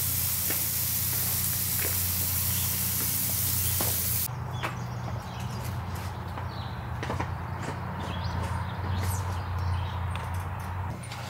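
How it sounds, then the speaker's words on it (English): A garden sprayer with no screen, used on a vegetable garden with tomato plants, gives a loud, steady broadband hiss for about four seconds, then cuts off, leaving a quieter outdoor background with scattered small clicks. "So I made sure our sprayer has no screen in it, which it doesn't."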